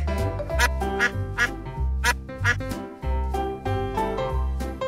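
A duck quacks in a series of sharp, evenly spaced bursts across the whole stretch, layered on top of a pulsing background music track.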